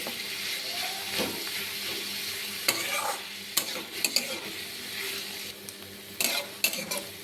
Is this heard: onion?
yes